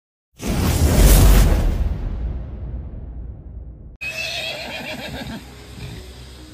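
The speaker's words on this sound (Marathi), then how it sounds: "स्टार्टिंगलाच आपल्याला घोडा भेटले." A horse whinnies loudly on a jungle safari, one long neigh that fades out, then a cut to rustling outdoor noise with faint movement.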